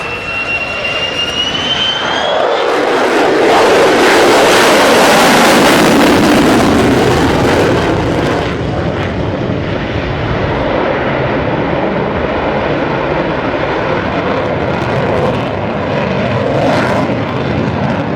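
Fighter jet engines roar loudly as aircraft make a close flyby at an airshow, a powerful sustained rush that swells and holds with a shifting pitch as the jets pass, dominating everything else.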